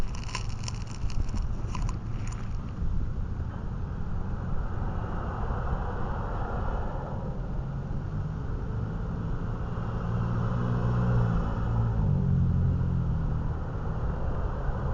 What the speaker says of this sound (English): just so that you guys could hear the audio and what it would be like outside with some wind.